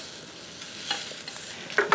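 Sausages sizzling in hot oil in a fry pan, a steady close hiss and crackle with faint utensil scrapes and no talking.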